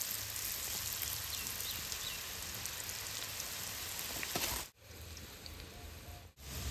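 Raw mango pieces frying in hot oil in a wok, a dense steady sizzle and crackle that dips briefly twice near the end, with no voices.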